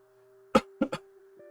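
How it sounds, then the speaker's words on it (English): A person gives one sharp cough followed by a quick double cough, close and dry, over a steady electronic hum with no talk. "Cough, cough."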